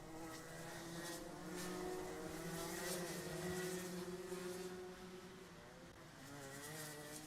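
Several racing karts at a club championship drive out onto the circuit, a steady blended engine drone with buzzing, wavering pitches as they rev and pull away, continuous and moderately loud, no talk.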